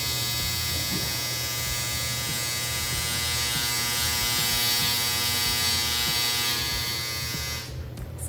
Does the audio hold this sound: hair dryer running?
yes